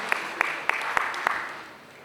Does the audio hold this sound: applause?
yes